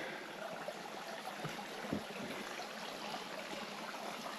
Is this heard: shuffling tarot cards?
no